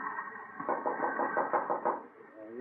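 Knocking on a locked train compartment door, staged as a radio drama sound effect: a run of about eight steady raps in quick rhythm, fairly close, set against a dense background hum.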